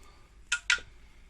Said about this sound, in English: The noise you can hear is just the washers falling out.